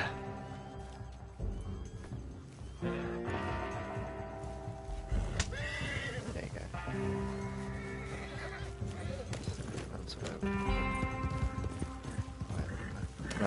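Horse in the Red Dead Redemption 2 video game neighing and whinnying several times over steady clip-clopping hooves, fairly close, with game sounds in the background.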